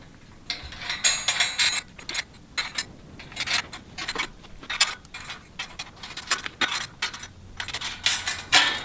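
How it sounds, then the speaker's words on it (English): Metal U-bolts being fitted with flat washers, lock washers and nuts on a hay ring cover, giving close, irregular light clinks and ticks of small metal parts, with no talk. "You're going to put a flat washer and a lock washer in the nut."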